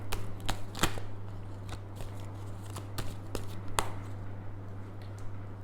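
Tarot cards being shuffled by hand, soft papery flicks and snaps at an irregular pace over a steady low electrical hum, close and fairly quiet with no talking.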